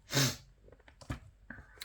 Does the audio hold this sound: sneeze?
yes